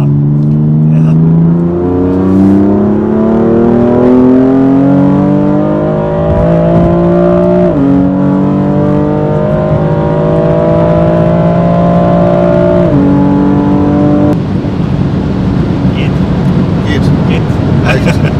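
A 590 PS BMW M4 Competition accelerates hard from 100 to 200 km/h, its engine note climbing loud and close, dropping briefly at each of three quick upshifts before rising again.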